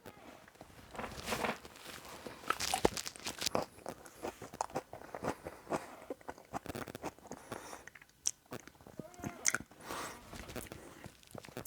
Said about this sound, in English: When you're chewing it, you gotta wrap the banana mush around the peel mush.